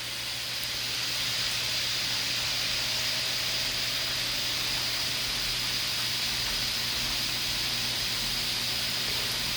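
Two spin dryers, a Ninja and a Panda, spin side by side at the same speed, giving a steady broadband whir and hiss with a low motor hum, constant and fairly loud from start to finish.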